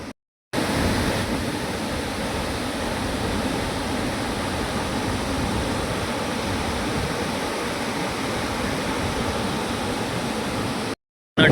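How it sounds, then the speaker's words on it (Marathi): Floodwater rushes down the Ghod river after the barrage gates are opened, a steady, loud broadband roar of flowing water that holds constant throughout with no voices. "मोठ्या प्रमाणावर बंधाऱ्याचे ढापे उघडल्याने पाणी येताना दिसून येत आहे"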